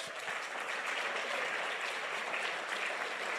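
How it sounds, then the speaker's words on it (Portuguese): A church congregation applauds in a soft, even patter of many hands, faint and distant, sustained without pause and with no voices over it. "Vamos aplaudir a palavra de Deus"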